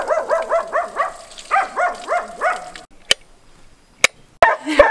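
A small dog in a quiet town in Bitola, North Macedonia barks loudly in two quick bursts of rapid yips, close by, followed by a few sharp knocks and a brief voice.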